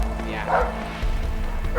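Dogs bark in a chase during the video game A Way Out, with two or three sharp barks over a rumbling, noisy background.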